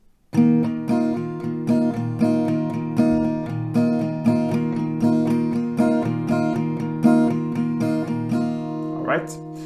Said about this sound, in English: So a couple of rounds of this strumming pattern will sound like this.